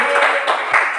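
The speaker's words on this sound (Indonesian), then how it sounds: "Tepuk tangan untuk Tri." Students applauding in a classroom, a brief burst of close, dense clapping lasting about a second.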